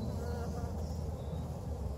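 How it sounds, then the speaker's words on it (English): Live honey bees buzz inside a hive that is cluttered with dead bees, making a dense, steady, close hum that continues without a break. "some of the still alive bees doing their best to get these dead bees out"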